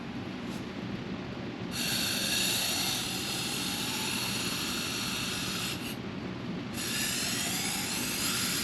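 A 30-year-old snow blower, left outdoors for years, runs on starter fluid with a steady, loud, raspy engine drone that surges twice as the revs rise and briefly dip.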